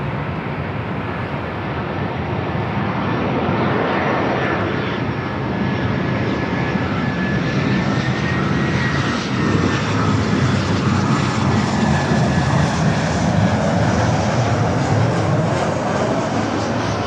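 An airliner rolls for takeoff on runway 24 left at LAX, a steady, loud engine roar that builds slightly and holds throughout with no talk.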